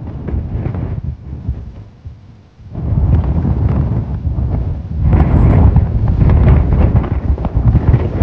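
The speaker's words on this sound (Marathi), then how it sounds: "वरती वारा खूप चालू आहे." Strong wind high on Sarasgad Fort above a valley buffets the microphone in heavy, rumbling gusts, dropping briefly before roaring back louder and sustained.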